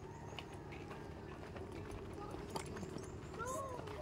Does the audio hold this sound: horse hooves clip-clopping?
yes